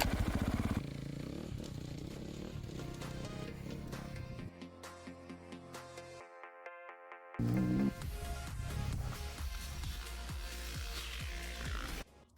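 A Triumph TF 450-E enduro motorcycle rides off-road in Morocco, its engine buzzing and revving loudly with clattering gear changes and a brief drop-off before snarling back up to full throttle.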